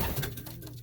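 A racing pigeon gives a short, soft coo close by, faint and alone, lasting under a second.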